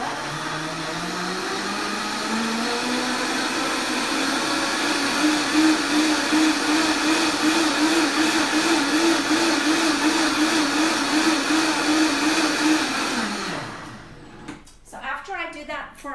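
A countertop blender whirs loudly and steadily while mixing a chocolate smoothie, its motor pitch wavering slightly before cutting off, followed by a few brief knocks.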